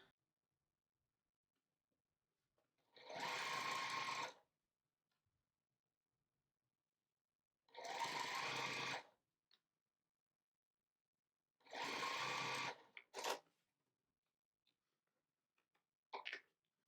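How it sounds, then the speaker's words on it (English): A sewing machine stitches quilt pieces together in three separate runs of about a second each, loud and close, with near silence and a few small clicks between them. "so now I'm going to sew the other side on"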